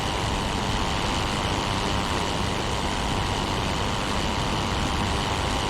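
An enemy World War I aircraft engine in the flight simulator Rise of Flight drones as a steady, unbroken rumble, a constant engine roar with no talk.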